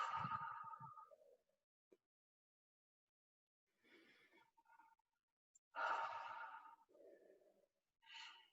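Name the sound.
deep breaths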